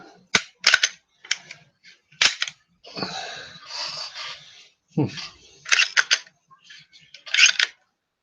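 Mechanical clicks of a handgun trigger being pulled and reset, in sharp close snaps spaced across the clip, singly and in quick pairs, with a short stretch of soft rustling handling noise between them.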